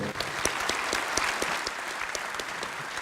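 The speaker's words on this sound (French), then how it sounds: "On vous applaudit pour" Audience applause at an annual general meeting, a crisp steady burst of many hands clapping with distinct individual claps standing out, continuous for the whole stretch without talk.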